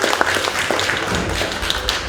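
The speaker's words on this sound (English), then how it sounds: "Round of applause for Dr. Rob." An audience at an advocacy and language session gives a presenter a short burst of applause, with dense overlapping claps that are close and fairly loud.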